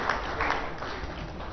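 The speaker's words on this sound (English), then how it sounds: "please help me with a big round of applause" Audience applause welcoming a government minister at a national workshop on CAMPA, a soft, even wash of clapping from a crowd that holds steady without a clear peak.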